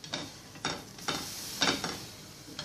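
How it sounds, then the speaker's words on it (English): Aloo tikki patty cooking in butter in a pan, a soft continuous sizzle broken by several short scraping bursts from a spatula at roughly half-second intervals, close and quiet, with no talking. "let's place it on the pan. And let it cook a little bit and get nice brown color"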